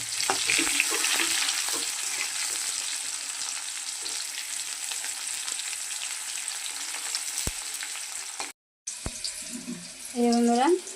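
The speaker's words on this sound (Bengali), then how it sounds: "এবার আমি দিয়ে দেবো পেঁয়াজ কুচিটা" Chopped onion fries in hot oil, a loud continuous sizzle with occasional stirring that runs steadily, cuts off briefly, then returns as a voice speaks over it.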